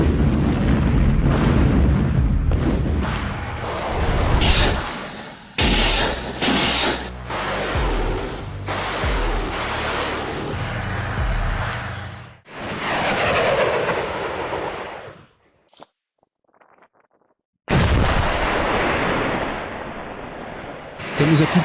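Loud, dense military firing of Grad and Uragan multiple rocket launchers and artillery, a continuous roaring barrage with heavy booms and bursts, broken by a near-silent gap before the roar resumes.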